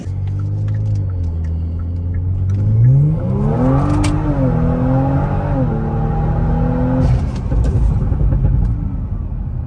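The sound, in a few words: tuned car engine revving then cutting out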